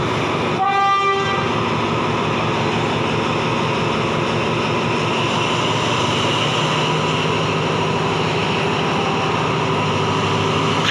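Thai express train 111 passes close by with a short horn blast near the start, followed by a loud, steady roar and rumble of rail cars that continues throughout.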